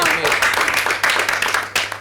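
An audience at a lively African variety show applauds in a dense, loud burst with surges of claps, and voices mix in through the noise.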